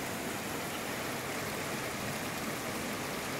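A river flows past rocks with a soft, steady rushing wash of water, fairly faint and unbroken throughout.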